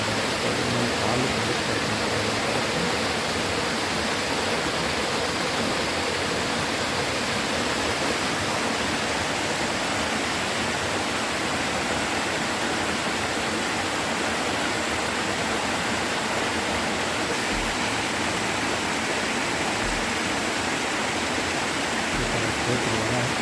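Waterfall at Punyagiri Shiva temple, a constant dense rush of cascading water at fairly close range, unbroken for the full length with a faint low rumble beneath and no speech.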